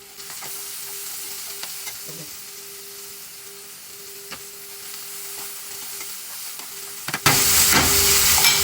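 Onions browning in a pan give a faint, quiet sizzle over a low steady hum, then a sudden loud, bright hiss of frying bursts out near the end, close and continuous, with no talking.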